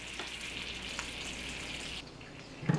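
Æbleskiver batter sizzles in a hot Æbleskiver pan, giving a soft, steady frying hiss with a few faint pops and a small knock at the end.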